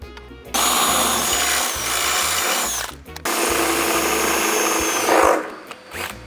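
A power drill whirs steadily through a Mercedes Sprinter van's metal body in two long bursts separated by a brief pause, loud and close, ending with some scraping.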